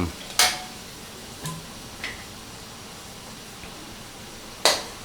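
A spatula stirs beaten chicken eggs into tomatoes in a frying pan, giving a few sharp scraping clicks against the metal over a soft, steady sizzle.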